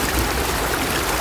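Strong mountain water rushing steadily through an irrigation channel in farm fields, a dense, continuous close-up roar of flowing water with no voices.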